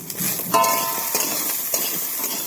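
Spices and dal powder fry for a small rohu fish curry as a spoon stirs them in the pan, making a close, steady sizzle with occasional scraping clinks and no talking.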